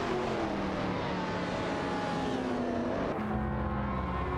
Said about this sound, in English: Neotexum in the Porsche 911 996 GT3 is locked in a tight duel with Dreadstream in the Ford GT40 MKII for the 18th position